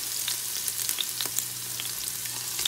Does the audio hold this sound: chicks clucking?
no